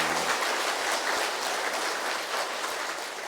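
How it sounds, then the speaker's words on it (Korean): Applause from a church seminar audience, a steady wash of many hands clapping that stays fairly quiet and even for a few seconds. "우리 박수 한번 칠까요?"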